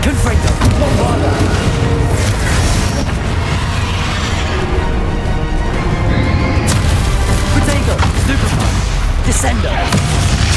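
Spell blasts from Confringo and Bombarda in Hogwarts Legacy, a dense run of loud booming explosions and crashes that barely lets up, with voices mixed in.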